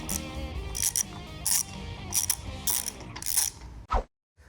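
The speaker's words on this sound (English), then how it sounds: "We will cinch this all the way down until it's fully seated and torque them down from there." Ratchet tightening the bolts on the third member of a 1960 Ford F100 rear axle, rapid close clicking in short repeated bursts that ends with a final stroke.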